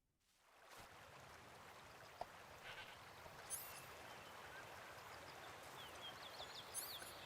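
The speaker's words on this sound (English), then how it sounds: "Hear a goat." A goat bleating in Metal Gear Solid 3, faint short bleats over a steady rushing stream and ambient jungle backdrop, with a couple of soft chirps.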